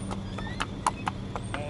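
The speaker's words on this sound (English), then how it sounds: "to walk, and while moving the horse to trot" An Arabian colt's hooves clip-clop on the ground in an even walking and trotting rhythm, close and distinct, while someone talks steadily over the footfalls.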